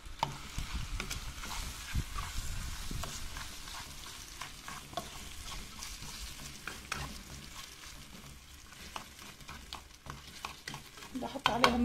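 Whole cardamom pods, cubeb and cloves stirred together in a pan, with steady scraping and rattling strokes over a soft sizzle, close and fairly quiet, without talk.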